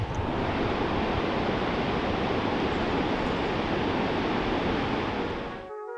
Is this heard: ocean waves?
yes